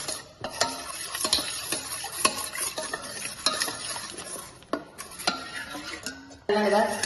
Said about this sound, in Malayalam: ആദ്യം നമ്മൾ നല്ലോണം കലക്കി കഴിഞ്ഞതിന് ശേഷം ബാക്കി പാലും കൂടി കൂടി ഒഴിച്ചു